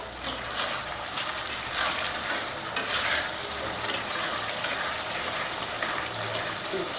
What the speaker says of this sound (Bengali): এখন জোরে দিয়ে ভাজতে হবে একটু টাইম লাগবে ভাজতে